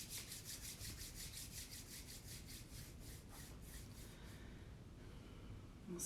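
Palms rubbing together briskly in a quiet room during prayer practice, a steady rhythmic rasping swish repeated for several seconds at close range, then easing off.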